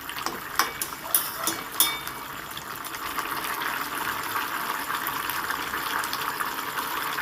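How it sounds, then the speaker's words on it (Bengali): Potato and papaya curry simmers under a lid, giving a steady soft bubbling hiss throughout, with a few sharp clinks and taps near the start. "এবার ঢাকা দিয়ে আমি দু থেকে তিন মিনিট ফুটিয়ে নেব"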